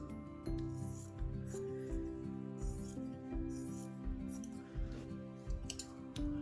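Scissors cutting fabric for an English paper piecing hexagon quilt block, a series of soft close snips and rustles over quiet background music.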